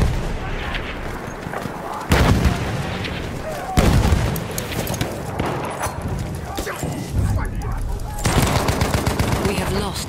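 Battlefield 1 conquest match at Fort De Vaux, with loud bursts of machine-gun fire and heavy explosions, including a grenade blast, crowding the battlefield din, with a few sharp impacts standing out among continuous gunfire and voices.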